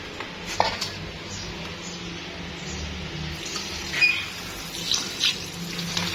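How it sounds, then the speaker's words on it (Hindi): Salted bitter gourds are rinsed and rubbed by hand under running water, a steady faint splash and trickle with occasional soft knocks and handling sounds close by. "मसल के इनको अच्छी तरह धो लेते हैं।"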